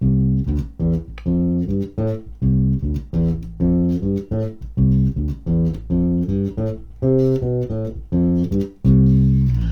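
A chorus bass line on electric bass, drawn from the major scale: quick, rhythmic runs of plucked notes with short gaps, played up close and alone.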